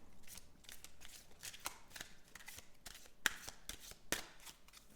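Oracle cards are shuffled for a card reading: soft, quick riffles and papery slaps in an uneven rhythm, close and quiet, with no voices.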